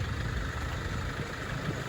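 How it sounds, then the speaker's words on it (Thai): A tractor engine rumbles with a steady low drone outdoors, constant and moderately close, with no voices. "รถไถกำลังมา"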